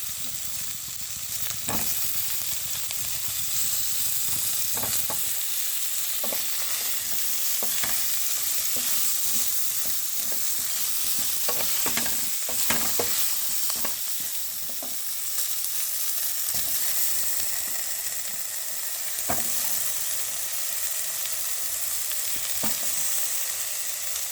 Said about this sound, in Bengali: এবারে আলু আর বেগুন, পেঁয়াজ ভাজা হয়ে গেছে লাল লাল করে। আলু দিয়ে দেবো, বেগুনগুলো দিয়ে দেবো।